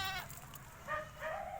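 Goats on a small farm in Tarlac bleat close by, two or three short wavering calls in quick succession, fairly quiet overall.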